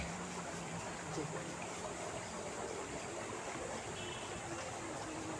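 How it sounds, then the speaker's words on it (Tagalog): Cool river water flows in a steady, soft broadband rush, faint and constant throughout, with no break or change in level. "Sarap sa ilog, malamig ang tubig, mga idol."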